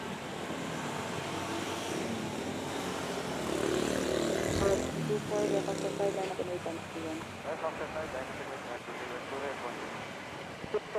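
A Jetstar airliner takes off from runway 06 at Manila's NAIA airport, its broad engine roar swelling steadily and holding under ongoing air traffic control radio talk.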